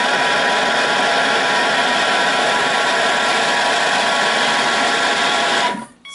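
A Thermomix runs at speed 5 blending a cassava cake batter, giving a steady, loud motor whir that holds evenly for nearly six seconds before cutting off abruptly.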